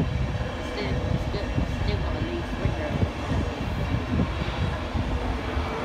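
A Leeds to London passenger train, a driving van trailer leading, rumbles steadily past a level crossing close by, a continuous broad roar of wheels and engine with no breaks throughout.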